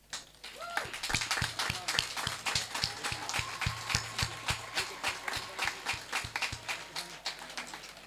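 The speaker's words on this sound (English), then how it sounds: "this deserves a standing ovation" A graduation ceremony audience at a high school gives a standing ovation, with steady, dense applause and a regular, heavy rhythmic beat running through it, sustained at moderate loudness throughout.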